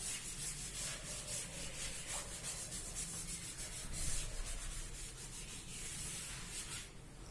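Steady rubbing of a duster over a classroom board as a polynomial division is cleared away, a continuous soft scraping swish running throughout with slight rises in force, close and without talk.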